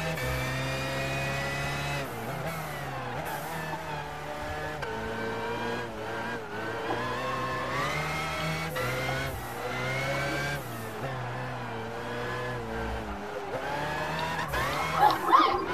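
A BMW V12 LMR race car from 1999, driven in Gran Turismo 5, revs and shifts continuously with rising and falling engine pitch and brief tire squeal near the end, with a faint voice underneath.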